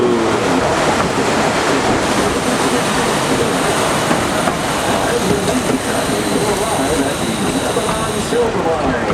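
Georgetown Loop Railroad tourist train running on its track, a continuous loud rumble and rattle of the wheels and cars that holds steady throughout, with a high squeal toward the end.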